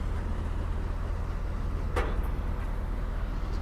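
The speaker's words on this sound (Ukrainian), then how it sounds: "Гарантується з трактором John Deere 6170M." John Deere 6170M tractor pulling an Amazone DMC anchor-coulter seed drill while sowing buckwheat in a field, giving a steady, droning engine rumble with a brief click partway through and no talk.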